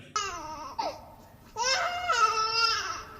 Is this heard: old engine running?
no